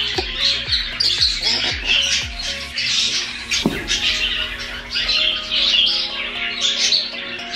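Several African lovebirds squawk and chirp loudly and repeatedly nearby, a busy overlapping chorus of harsh calls.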